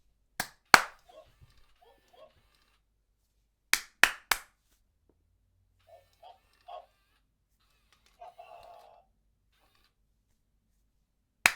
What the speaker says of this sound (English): So I'll try clapping.